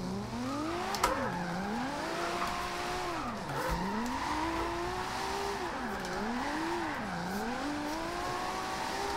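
A Nissan 370Z engine in the racing video game Forza Horizon 2 revs up and down repeatedly while drifting, its pitch sweeping high and low with each gear change, steady and continuous.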